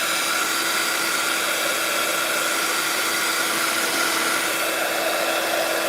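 A heat gun blows with a steady, loud whooshing roar and a faint constant whine, running without a break.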